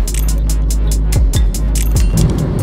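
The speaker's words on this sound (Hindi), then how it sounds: "ट्रैफिक ज़्यादा है आज" Heavy highway traffic with many trucks on the road toward Delhi, a loud constant low engine rumble with several vehicles sweeping past close by and a repeated rhythmic ticking throughout.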